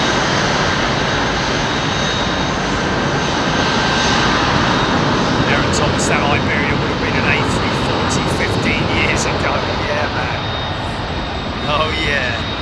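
A jet airliner with GE CF6 engines roars loud and steady nearby, a broad, continuous engine wash lasting throughout, with people talking over it.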